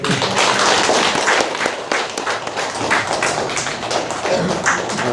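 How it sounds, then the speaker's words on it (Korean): Church congregation clapping after two deaconesses are called forward during a Sunday morning service, a dense patter of many hands that swells, dips midway and continues at moderate loudness. "자, 우리 박수해 주시기 바랍니다."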